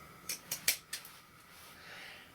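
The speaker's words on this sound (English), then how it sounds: "I'm using my pinking scissors." Four quick crisp snips of pinking scissors cutting fabric, close and fairly quiet, followed by a soft hiss.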